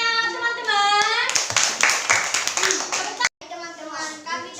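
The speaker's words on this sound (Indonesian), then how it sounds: "Mana tepuk tangannya, teman-teman?" Group of children clapping in a classroom after a group presentation, a burst of dense claps mixed with kids' voices, briefly cut off and then continuing under talk.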